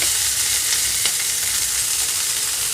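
Cut okra pieces fry in hot oil, producing a close, dense and steady sizzling crackle with no talking.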